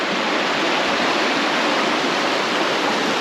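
Creek water flows steadily over rocks in Henry W. Coe State Park, a dense, constant rushing wash close by with no talking.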